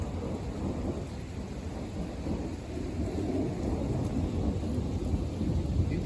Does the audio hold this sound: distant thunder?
yes